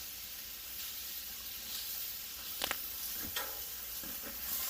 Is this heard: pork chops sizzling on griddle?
yes